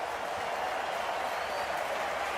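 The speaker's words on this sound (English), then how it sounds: "Ribéry's getting a huge round of applause, 35 years of age, but his talent undimmed." Stadium crowd at a Manchester City versus Bayern Munich football match applauding Ribéry as he is substituted off, a steady, dense wash of clapping that holds evenly for the whole moment.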